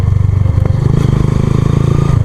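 A Hero Karizma-R motorcycle is ridden, its engine giving a loud close throbbing drone with a faint clatter, steady throughout and with no speech.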